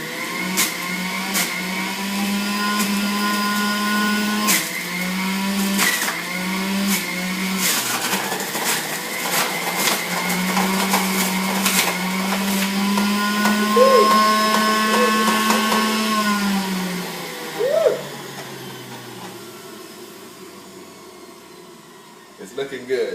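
An electric juicer runs at high speed chopping apples and oranges, a loud, steady motor whine that rises and dips as fruit is fed in, then winds down near the end, with a person talking over it.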